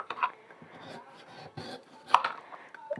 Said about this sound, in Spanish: yo ya voy picando lo que es mi fruta